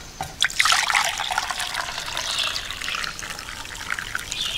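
Water trickles and pours steadily at a campground while camp coffee is being made, a close, continuous liquid splashing with a soft background hiss and no talk.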